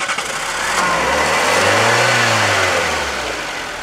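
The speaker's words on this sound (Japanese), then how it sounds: "それではエンジンをかけてみたいと思います。" A 2004 Nissan March hatchback's engine cranks and fires up nearby, rising in a revving swell before settling back toward a steady idle, heard up close with no talking.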